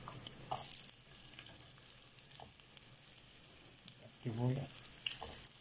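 Chopped onion sizzles as it is added to a hot pan of garlic for ginisang ampalaya with tuna, a soft steady frying hiss with faint stirring, under brief talk.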